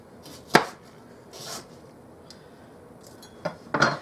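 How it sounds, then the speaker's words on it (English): A knife slices an onion into thin slices on a board, heard as a few sharp, separate cuts with pauses between them, the last two close together, in an otherwise quiet kitchen. "Now I'm going to do a little bit of onion, and I'm just going to cut it in thin slices"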